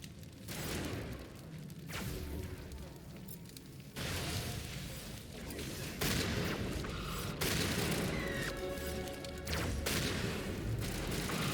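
Shotgun blasts in Mass Effect boom about every two seconds, each a loud, close burst that fades into a noisy rumble, with some sci-fi combat sounds between them.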